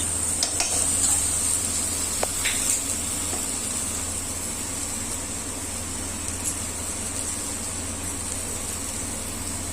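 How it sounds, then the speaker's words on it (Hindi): Ginger-garlic paste, two spoonfuls, sizzles steadily in a hot pan for an egg and potato curry, with a few metal stirring scrapes and clinks near the start and a constant low background hum. "अब इसमें हम डालेंगे अदरक और लहसुन का पेस्ट, दो चम्मच।"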